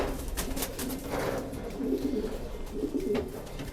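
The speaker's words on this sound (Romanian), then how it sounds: "Excepțional porumbel." A pigeon coos softly in a steady repeated rhythm, close by against a low background hum.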